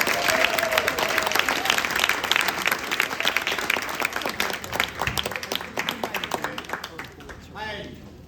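Audience applause welcoming author John Green, a dense wash of many hands clapping loudly that gradually thins out and fades over several seconds.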